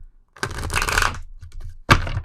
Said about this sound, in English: I guess I have to shuffle this way, the long way.